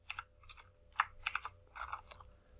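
Brisk typing on a computer keyboard with clustered key clicks in uneven bursts, close and fairly quiet, with no talking.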